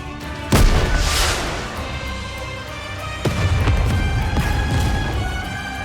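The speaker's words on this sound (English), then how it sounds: "a shell flies from the rocket launcher. And a resounding explosion causes the entire snowfield to be blanketed in thick plumes of white smoke." A rocket launcher shell fires and explodes over a snowfield in the video game NIKKE, a loud sharp boom followed by a long rumbling wash and a second heavy blast a few seconds later.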